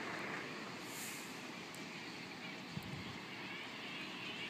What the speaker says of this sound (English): There's a Waratah up there just slowly coming out of AMF